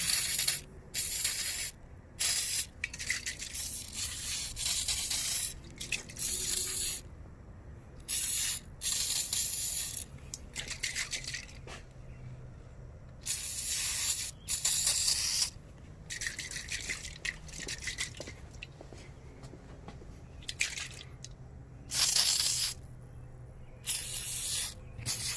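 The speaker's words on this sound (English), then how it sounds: "I just sprayed that on there." Aerosol spray bursting in repeated hisses of a few seconds each onto the front brake calipers of a 2004 Suzuki GSXR 1000 motorcycle, close and loud, with short pauses between bursts.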